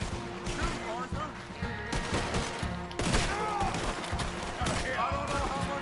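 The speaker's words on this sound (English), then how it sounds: "Shoot, Arthur!" Rapid gunfire crackles through a shootout in the video game Red Dead Redemption 2, repeated shots in dense bursts mixed with shouting voices and other battle noise.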